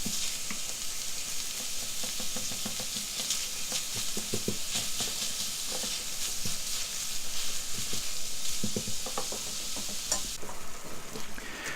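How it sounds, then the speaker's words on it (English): Beef mince fries and browns in a pan for a Gaucho pie, with a steady close sizzle and repeated scraping, stirring clicks from a utensil throughout, and no voices. "allowing it to cook through and just brown off that mince nicely"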